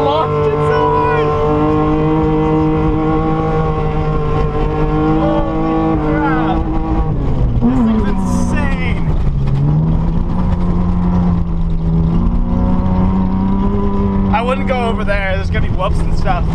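A Subaru drives over sand dunes, its engine droning loud and steady throughout with rising and falling revs as it works over bumps, close and continuous.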